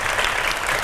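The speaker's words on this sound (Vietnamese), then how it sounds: "Vỗ tay quý vị." A studio audience bursts into loud, close applause at a dating show taping, a dense burst of clapping lasting under a second.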